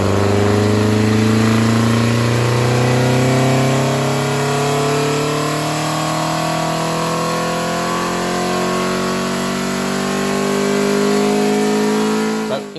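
An engine fitted with Weber 40 DCOE carburettors and 33 mm chokes revs hard on a dyno, a loud continuous sweeping roar with rising and falling harmonic tones held throughout, alone without talk.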